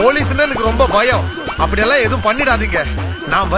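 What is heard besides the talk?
No everyday noises stand out.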